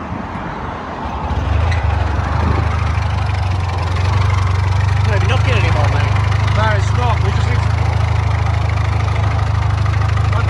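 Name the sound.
Audi TT MK1 engine idling after overheating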